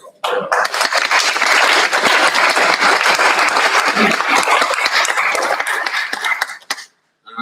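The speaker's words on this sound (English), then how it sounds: "just give them a bit of a round of applause" Sustained audience applause at an industry test-lab launch party, loud and dense for about six seconds before cutting off abruptly into silence.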